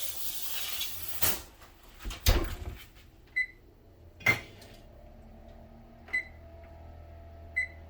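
A chocolate chess pie goes into a convection oven set to 350 degrees, bringing a few sharp, separate clanks and knocks of bakeware and the rack, with a low hum between them and no voices.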